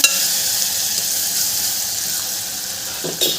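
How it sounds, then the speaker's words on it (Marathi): Tomatoes sizzling and frying in a pan for bitter gourd curry, a loud, steady hiss of hot oil throughout with a brief stir or scrape near the end. "आता यामध्ये टोमॅटो घालून घ्यायचे आहे टोमॅटो पण आपल्याला छान शिजवून घ्यायचे आहे"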